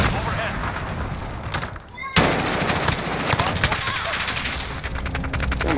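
Call of Duty Modern Warfare multiplayer gunfire, dense rapid automatic bursts up close with a brief lull and then a sharp resumption of heavy fire, with speech at times over it.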